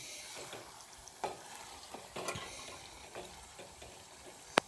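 Potato and meat curry being stirred in a pot, a soft wet scraping and sizzling with irregular clinks of the spoon against the metal, close and quiet, with one sharp clack near the end.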